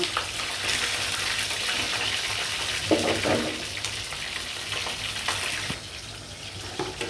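Steady hissing sizzle of chicken frying in a pan, continuous and close, with occasional faint stirring clinks.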